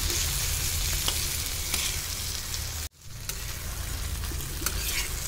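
Diced paneer sizzles loudly and continuously on a hot tawa while being stirred with spicy masala, with a brief dip in the frying noise midway before the steady crackle resumes.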